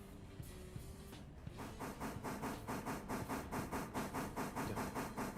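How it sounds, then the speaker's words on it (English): A passenger train runs the line in the video game Railroader, its wheels beating out a steady, rhythmic chopping clatter that grows loud and even after a brief hissing start, with no voices. "Because you have a passenger train running the line."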